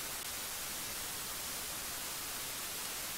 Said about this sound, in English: You'll see what white noise would look like across the spectrum.